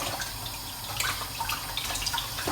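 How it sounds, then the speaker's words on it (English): Water runs steadily from a kitchen tap as hands are rinsed of meat juice while making pasta with meatballs, a constant close hiss with small splashes and drips over it. "You always need to constantly wash your hands because it's meat juice"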